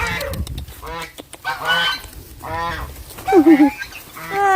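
Geese honk repeatedly on a farm, loud nasal calls in uneven bursts close by, with ducks and pigs also kept there.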